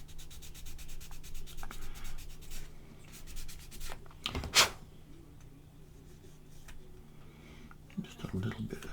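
Sanding a part of a Holt 75 artillery tractor scale model, heard as soft, close rubbing strokes in a quiet room, with a brief louder scrape midway and a few small handling noises near the end.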